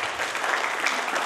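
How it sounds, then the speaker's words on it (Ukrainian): Applause from the audience at a charity school concert, a dense continuous wash of many hands clapping that holds steady and fairly faint throughout the short burst. "Ваші оплески."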